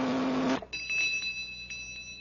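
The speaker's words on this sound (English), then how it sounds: "The better it tastes, the louder it'll ring the bell." A bell rings on a flavor-testing meter in an old radio drama: after a burst of broadband noise, a clear ringing tone sustains with faint repeated tinkles over the next couple of seconds, with no voices.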